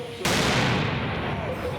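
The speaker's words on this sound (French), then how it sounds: "utilise la charge explosive d'un mortier normalement réservé aux artificiers professionnels comme une véritable grenade" A professional firework mortar charge set off like a grenade bursts with one sudden loud close blast, followed by a long roaring, crackling rumble that fills the rest of the moment.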